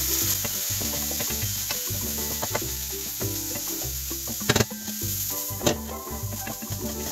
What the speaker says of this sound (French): Donc là on mélange quelques minutes, le temps que toutes les épices et l'oignon se mélangent au petit pois